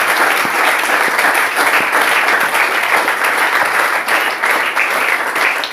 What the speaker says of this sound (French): Applaudissons pour nous.